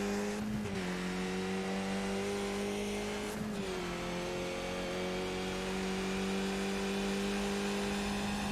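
Race cars lapping VIR in a sim racing game, a steady high engine drone with slowly shifting pitch and brief dips as cars brake or shift, continuous and close, no voices over it.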